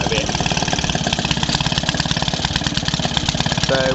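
A 1946 Maytag 72D single-cylinder engine runs steadily while driving a 1927 Maytag washing machine, its rapid even firing pulses close and loud throughout.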